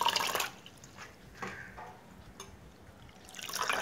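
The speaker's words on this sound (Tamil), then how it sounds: "இதை நல்லா வாஷ் பண்ணி எடுத்து வச்சுக்கிறேன்." Ponnanganni keerai greens are washed in water, with splashing and sloshing at the start, quieter drips and trickles in the middle, and more splashing near the end, all close by.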